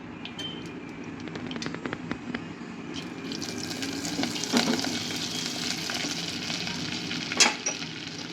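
Butter sizzles in hot mustard oil, a close, steady frying hiss with scattered crackles and a few sharper pops and clinks, no voices over it.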